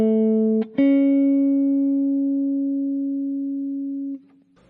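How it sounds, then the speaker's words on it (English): A guitar rings out a major third interval, two notes held together after a quick re-pluck, sustaining cleanly and decaying slowly until a short damped stop, with no talking. "And here's a major third."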